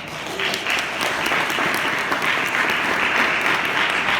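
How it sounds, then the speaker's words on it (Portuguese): A church congregation applauds during a Portuguese-language worship service, producing dense, steady clapping that stays loud and continuous throughout. "Palmas para o Senhor Jesus."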